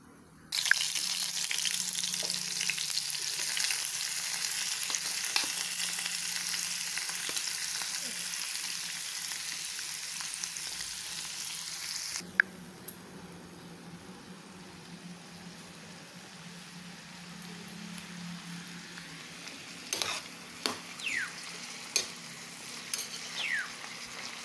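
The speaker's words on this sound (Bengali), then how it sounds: "তেলটা গরম হয়ে গেছে, এখন আমি এর মধ্যে অল্প একটু 5 ফোড়ন দিয়ে দিচ্ছি।" Panch phoron spices fry in hot oil with a strong, even sizzle that drops to a quieter crackle halfway through, followed by a few sharp clinks and taps.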